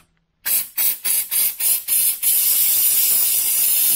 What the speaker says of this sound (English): This is a degreaser, so this is a solvent. So that's cleaning solvent.